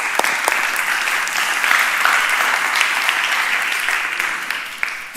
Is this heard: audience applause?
yes